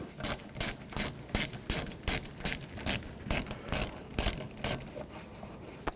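A ratchet with a 10mm socket loosens a bolt on a 1995-2004 Toyota Tacoma engine, giving a regular series of about a dozen sharp clicking strokes, close and fairly loud, with no talking.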